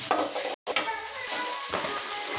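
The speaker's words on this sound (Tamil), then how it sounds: "கடலப்பருப்பு போட்டுக்கலாம் நல்லா வணக்கிக்கலாம் வரப்பத்தமல்லி போட்டுக்கலாம்" Chana dal and coriander seeds fry in a pan for mint chutney, crackling and sizzling up close while a spoon stirs and scrapes, with one brief drop to near silence.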